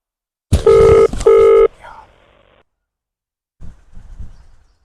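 Two loud electronic beeps from a phone being dialed to call a lawyer, followed by faint handling noises, all close up and without talk.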